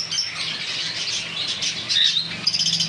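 Caged cockatiels, lutino and dark birds kept for sale at a bird market, give shrill squawks and chirps. The calls overlap in a busy, fairly loud chatter, with a few sharper cries near the end and no voices.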